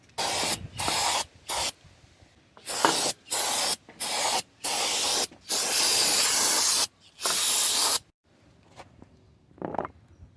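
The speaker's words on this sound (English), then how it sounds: "So we're gonna clean the channels here very well" Aerosol cleaner sprays into the valve cover channels of a Toyota 3.3L engine, heard as a series of close, loud hissing bursts, some short and some lasting over a second, separated by silence, with no talk.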